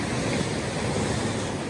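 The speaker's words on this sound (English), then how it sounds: "the waves are quite noisy" Waves roll in at Porth Isco beach on the Welsh coast, a loud, dense, continuous wash of surf with wind buffeting the microphone.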